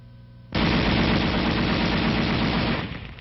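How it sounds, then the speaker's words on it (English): An M73 7.62mm tank machine gun fires one sustained, loud burst of rapid shots lasting nearly three seconds, then breaks off abruptly. "The gun continues to fire as long as the trigger is depressed."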